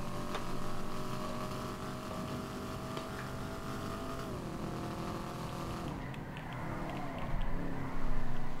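A car engine in a video game drones steadily, then its pitch drops and shifts as the car slows and turns, with a louder burst near the end; no talk.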